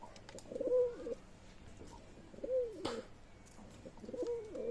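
Pakistani high-flyer Teddy pigeons coo softly in repeated low, warbling phrases, three bursts spaced across a few seconds, with a brief sharp knock in the middle.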